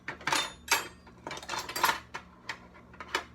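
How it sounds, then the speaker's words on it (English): Metal utensils clink and rattle in a kitchen drawer while someone rummages for a measuring spoon, several short close clatters in quick succession. "let me get out a measuring spoon here"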